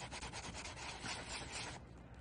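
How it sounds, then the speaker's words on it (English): A sanding block wrapped in P180 Abranet mesh rubs steadily over polymer clay beads, giving a close, quiet, continuous scratchy rasp that stops near the end. "I'm going to sand them. P180 Abra net wrapped around a sanding block."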